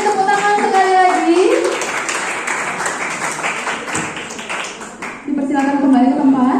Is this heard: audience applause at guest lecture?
yes